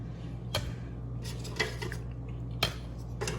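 Chopsticks clack against a pan as fried wontons are lifted out, several sharp light taps spaced about a second apart over a steady low hum.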